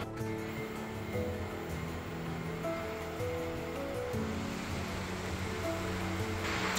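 An Ecovacs X1 Omni robot vacuum base station fills its water tank with a steady rushing, splashing noise and a faint tonal hum underneath. The sound is continuous and fairly close, and no one speaks.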